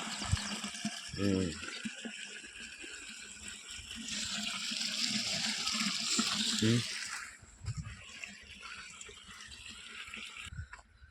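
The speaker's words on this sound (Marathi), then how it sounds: "हे पहा बोरचं पाणी आहे, बोरचं पाणी आहे." Borewell water gushes out on a village farm field, a quiet steady rush that swells in the middle and then drops away, with a couple of short voice sounds nearby.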